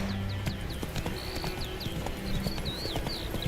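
Hooves clip-clop in a brisk, even trot as the horse Roach moves along in The Witcher 3 video game, set against a steady outdoor ambience with birdsong chirping overhead.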